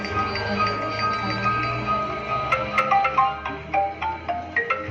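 A phone rings with a repeating electronic tune at close range, steady tonal notes over a low background hum, with no talking.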